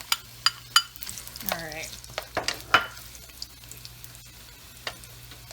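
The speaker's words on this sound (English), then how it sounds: "And then I'm going to just take my onion and just dump it in." Chopped onion tipped into about a cup of hot oil on a stove set to medium-high gives a close, steady sizzle. A few sharp clatters of pan and utensil break through, and one brief spoken word can be heard.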